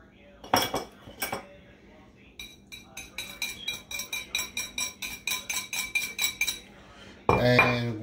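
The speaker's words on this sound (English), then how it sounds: "going to give this a nice old mix" Utensils stir and clink against a bowl while a shrimp salad with fresh dill and lemon zest is mixed, giving a steady run of rhythmic metallic taps close up, with a few louder scrapes at the start and end.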